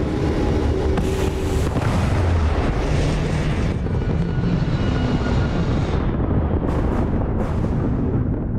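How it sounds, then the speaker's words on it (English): A spaceship lifting off in the science-fiction game Starfield, a loud, dense roar of engine thrust and rumble that fills the whole stretch, thinning slightly toward the end. "Pressure holding. Takeoff looks good."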